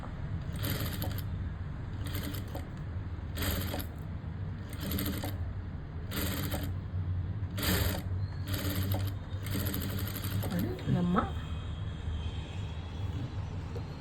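A sewing machine stitching a blouse runs in short regular bursts of rapid clatter separated by brief pauses, close and clear with no talking, ending with a faint rustle of fabric.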